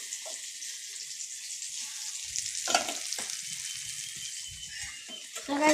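French fries fry in hot oil with a steady, bright sizzle, broken by a few soft clatters and stirring sounds, and there is no talking.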